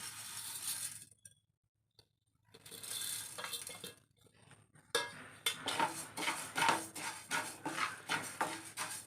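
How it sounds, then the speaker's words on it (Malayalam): Rice dry-roasting in a pan for homemade sambar powder, stirred with a metal spoon that scrapes and clinks in quick rhythmic strokes, pausing briefly between bursts, close and fairly loud. "നമുക്ക് ആദ്യം തന്നെ അരി വറുത്തെടുക്കാം"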